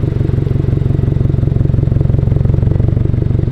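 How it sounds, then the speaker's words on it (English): 2022 Subaru WRX with a Perrin front pipe exhaust idling close by, a loud, deep, steady burbling pulse with even rapid rhythm and no voices. "You can tell it's a more pronounced exhaust note for sure."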